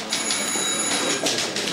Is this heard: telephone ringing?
yes